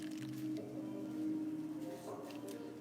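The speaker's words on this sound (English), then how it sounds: "And I'm just gonna rinse off my sponge here." A grout sponge covered in cement is rinsed in a bucket of water, giving soft squishing and sloshing sounds close by, with a steady low hum underneath.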